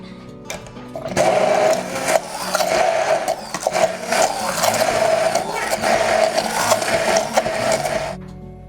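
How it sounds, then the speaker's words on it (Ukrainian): A blender whirs steadily at high speed for several seconds, loud and close, with a constant grinding drone and slight wavering as it purées a sauce of garlic, lemon juice, pepper and salt. "Тепер збиваємо блендером."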